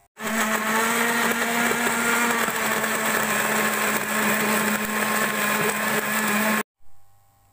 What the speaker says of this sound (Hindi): अब मैं इसको ग्राइंड करके आपको दिखाती हूँ